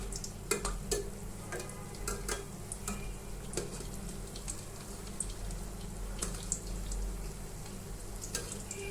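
Bora pitha cakes frying in hot oil, with a soft continuous sizzle beneath repeated sharp clicks and taps of a utensil turning them, close and moderately quiet, with no voices.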